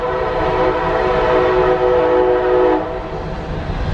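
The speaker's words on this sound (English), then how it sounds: "So this train is probably coming from the steel mills." A freight train, probably coming from the steel mills, passes near the Tolleston Dunes trailhead in Indiana Dunes with a sustained horn-like tone over a rumbling rail roar, the tone stopping near the end.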